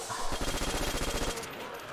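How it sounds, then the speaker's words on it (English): Gunfire in Call of Duty World at War custom zombies: a fast, regular burst of close, loud shots for over a second, then fading out. "Okay, trench gun. It's up to you now."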